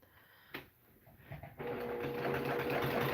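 A domestic sewing machine does free motion quilting. After a couple of quiet clicks and bumps, its motor starts and runs with a steady, fast, even whir and stitching rattle to the end.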